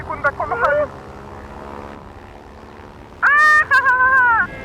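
A steady propeller-airplane engine drone hums throughout an in-flight scene in a Minecraft animated film, running under two loud bursts of excited, high-pitched voices at the start and near the end.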